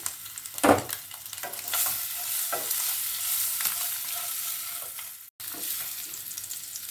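Eggs frying in a pan and being stirred, a soft steady sizzle broken by several sharp scraping clatters and one brief dropout.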